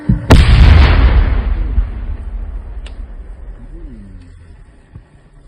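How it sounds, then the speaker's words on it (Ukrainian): A loud, close explosion from the controlled destruction of enemy cluster munitions bursts out, followed by a long rumbling boom that slowly fades over several seconds. "Вибух."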